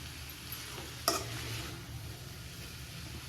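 Noodles with spices are stirred in a pan, a soft, quiet scrape and sizzle with one sharper utensil knock near the middle.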